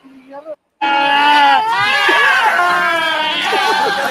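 Goats bleat loudly and close by in a long, wavering, overlapping chorus after a brief voice, continuing without a break.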